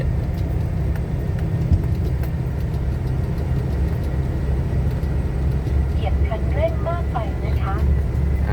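An Isuzu 360 truck engine labors up a mountain road in fourth gear, a loud, steady low drone filling the cab, with a voice briefly heard over it near the end.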